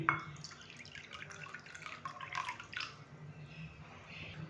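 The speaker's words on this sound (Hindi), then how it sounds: "तो सबसे पहले यहाँ पे मेरे पास पानी है, तो पानी हम तकरीबन 4 से 5 खाने के चम्मच लेंगे।" Several spoonfuls of water are added for a dhaba-style chicken curry spice mix: light splashes and drips in a kitchen, soft and close, with no talking.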